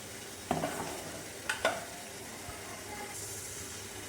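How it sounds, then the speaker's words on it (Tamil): Ground coconut paste is stirred into a pot of mutton kulambu, giving a few soft scraping stirs with a faint sizzle and hiss underneath, quiet and close, with no talking. "அடுத்ததாக இதில் அரைச்சி வச்ச தேங்காய் ஆட் பண்ணிக்கலாம்."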